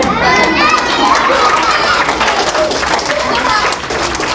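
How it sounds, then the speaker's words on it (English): Audience at a library magic show, a mix of children and adults, fills the space with steady clapping and excited children's shouting throughout, loud and close, easing slightly near the end. "You adults could have applauded."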